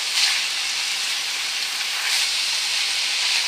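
Food sizzles steadily in a hot pan, a continuous bright hiss of frying that stays loud and even throughout with no talking over it.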